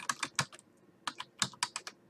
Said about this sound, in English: then simply start typing